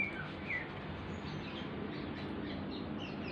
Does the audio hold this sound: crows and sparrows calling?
yes